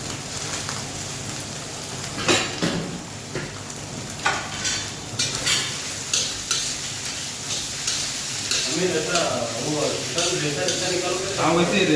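Carrots, beans and chillies being stir-fried in a kadhai at a friends' Chinese-style cooking party in Kuwait, giving a steady sizzle with scraping stirs and clanks throughout, while people talk nearby.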